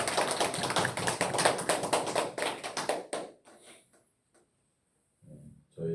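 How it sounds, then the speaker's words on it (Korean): A church congregation claps together to welcome newcomers: about three seconds of dense, steady applause up close, which then stops abruptly. A few scattered taps and quiet shuffles follow. "이 시간 우리 환영의 박수 한번 쳐주시기 바랍니다."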